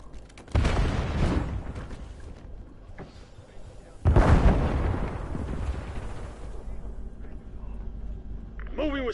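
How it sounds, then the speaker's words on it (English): A frag grenade going off in Call of Duty Warzone: two loud, close explosions a few seconds apart, each a sharp burst that fades into a rumbling tail, with gunfire and voices underneath. "Frag thrown."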